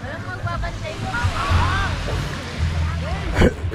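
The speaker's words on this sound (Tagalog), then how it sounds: "Ganda ng dagat eh, kalmado." Calm sea waves washing and sloshing nearby on a busy Sunday beach, a continuous soft surf with a few stronger splashes, with voices faintly underneath.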